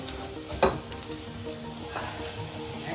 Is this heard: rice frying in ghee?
yes